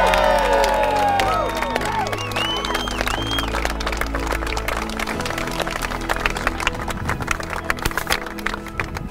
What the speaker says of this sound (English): Come on, folks, let's clap and cheer.